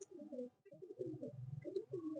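Madrasi and Giribaz pigeons cooing close by in soft, throaty repeated phrases, broken by a brief pause, with no talk.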